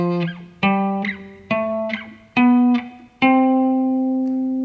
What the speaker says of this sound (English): We're going to do this in C, and what I'm going to do is play it on one string